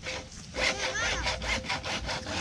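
A hand saw cuts with steady back-and-forth strokes, roughly eight rasping passes in a regular rhythm, close and moderately loud, with no voices.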